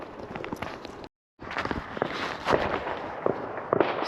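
Fireworks going off on Bonfire Night, heard while walking through a park in Derby, with repeated sharp cracks and pops at a distance over footsteps and outdoor ambience.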